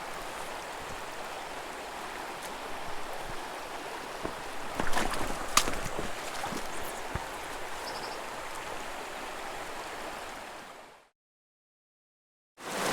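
Steady broadband rush of a stream flowing below an artificial waterfall, continuous and close, with a few brief splashes and knocks near the middle before the water cuts off abruptly near the end.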